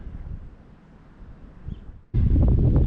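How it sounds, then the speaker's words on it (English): Wind blows outdoors at South Elmham fishery in Norfolk, first as a low, rumbling rush. A sudden strong gust then buffets the microphone loudly for the last second. "Apart from this wind, it's actually really quite mild."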